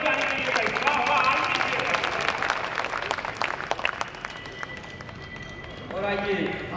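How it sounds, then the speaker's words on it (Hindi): Audience at a mushaira poetry gathering in Varanasi breaks into sustained applause, a dense wash of many hands clapping at once with crowd noise. It stays steady throughout, swells again near the end, and no one speaks over it. "तालियां जोरदार बजानी चाहिए भाई"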